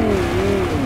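A car engine in Fortnite revs loudly and close, a steady mid-pitched engine tone with a slight pitch dip and rise over a short burst, with no talking.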